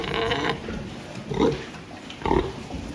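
A pig grunts a few times at close range, short throaty bursts spaced about a second apart over steady barn background noise.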